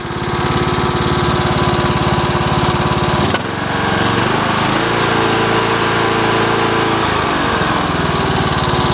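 A Cub Cadet LTX1040 riding lawn mower engine runs loud and close, a steady rough drone that dips sharply a third of the way in, then settles into a smoother, shifting tone before a brief change near the end.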